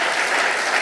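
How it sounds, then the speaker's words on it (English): Applause from a workshop audience at a JoomlaDay conference in Florence, a steady dense wash of clapping filling the whole moment with no pauses. "Very big applause"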